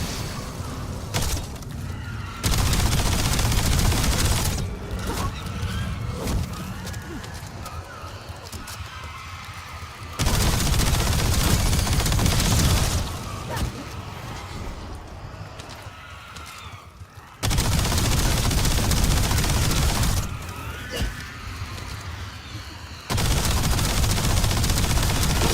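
Video game gunfire as a player lines up headshots, with bursts of rapid shots arriving in loud blocks separated by quieter gaps, close and dense.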